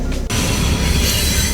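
A passing train near a lifted Honda Civic wagon, a loud, continuous broadband roar of rolling stock that fills the short stretch alone, with no voices.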